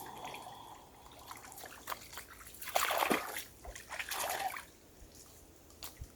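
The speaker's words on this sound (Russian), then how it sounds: "О, теперь надо сполоснуть." A pike is rinsed with lake water, giving close splashes, trickles and drips in a few short bursts with quieter pauses between.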